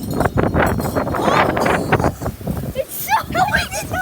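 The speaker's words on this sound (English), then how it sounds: "It's so flipping windy." Strong outdoor wind gusts roar and buffet the microphone continuously, with people talking over the rush and a brief calmer stretch near the end.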